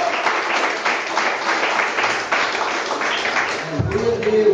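Congregational clapping during an evangelical church service, a rhythmic, fairly loud patter of hands that continues steadily, with a voice and low tones entering near the end.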